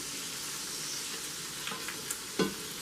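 Burger patties frying in a pan, a constant bubbling sizzle with a few light utensil taps and one sharper clack near the end, close up with no talk.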